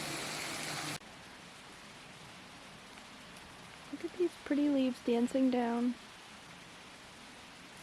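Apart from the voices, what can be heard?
light rain falling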